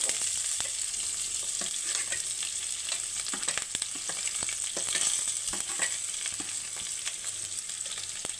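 Sliced onions for upma fry in a pan with a bright, continuous sizzle, dotted with rapid small crackles and pops and a few stirring scrapes, close and steady throughout; no speech.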